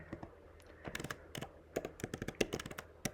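Fingers type on a computer keyboard in irregular bursts of crisp, close clicks, with quieter gaps between clusters of keystrokes and a faint low hum beneath.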